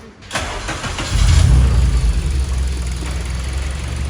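A hatchback car engine cranks briefly and catches, then settles into a loud, steady rumbling idle close by, with no talking.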